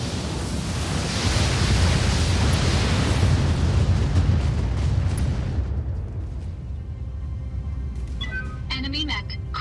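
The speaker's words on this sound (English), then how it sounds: "Now we do the wonderful 40 missiles." A heavy missile salvo of forty missiles fired from a Stalker mech in BattleTech, a loud continuous roaring rush of launches and impacts that fades out, followed by a quieter radio-like voice.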